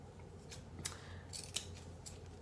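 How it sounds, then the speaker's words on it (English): Scissors snipping through folded fabric scraps for a craft project, several quick crisp cuts at uneven intervals, close and quiet against a faint room hum, no talking. "Then you can fold this over, cut it, fold this over and cut it"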